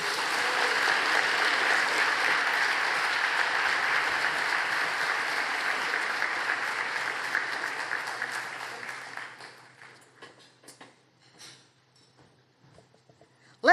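Audience applause following a speech at the WFAE EQUALibrium Awards, sustained full-room clapping that thins out and fades to a few scattered claps before a sharp closing sound.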